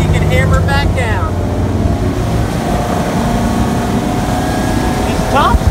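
A 2008 Chaparral 264 Sunesta powerboat runs under power on open water, its engine making a loud, steady drone over rushing water and wind noise, with brief voices near the start and end.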